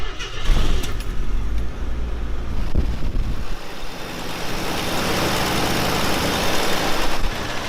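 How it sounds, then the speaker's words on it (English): An AMC Pacer engine idles steadily indoors in a museum after running for some minutes, a continuous even rumble with a louder, rougher patch near the start. "So the car's been running for about 10 minutes now, and all the readings look good."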